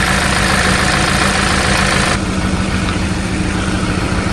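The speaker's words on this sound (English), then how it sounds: "there's a big change in cylinder number 2. The engine wants to stall." A car engine idles roughly with a misfire in cylinder number 2 and sounds close to stalling. The loud, close mechanical running is continuous, with a slight drop in its hissing upper tone midway and no talking.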